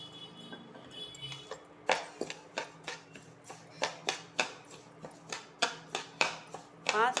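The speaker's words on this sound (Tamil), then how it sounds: "பாசிப்பருப்பை வறுத்துக்கலாம்" Moong dal roasting dry in a pan gives a brisk, even run of sharp ticks and scrapes as it is stirred, the strokes coming close and fairly loud at a regular pace.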